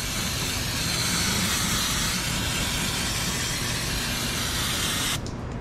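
A continuous loud hiss of cleaner sprayed onto the engine parts of a 2008 Ford Explorer Sport Trac runs for about five seconds and then cuts off abruptly, with no voices.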